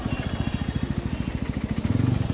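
A motorcycle being ridden on a sunny day, its engine thumping in a steady, even rhythm that stays close and fairly loud throughout, with a brief rise in low rumble near the end.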